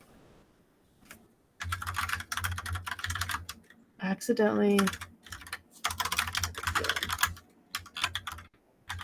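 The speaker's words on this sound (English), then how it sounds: "I don't know why I'm typing out this whole thing" Someone types on a computer keyboard in several quick bursts of clicky keystrokes, close and fairly quiet, broken by pauses, with a brief spoken word in the middle.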